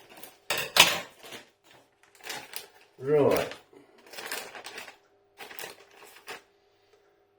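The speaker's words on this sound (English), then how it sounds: "let's cut the bag open. So I've got my scissors handy" Scissors snip open a plastic bag of frozen jalapeño and cheese stuffed hash brown nuggets, giving several crisp, crinkly cutting and rustling bursts, close up, with a person briefly talking in between.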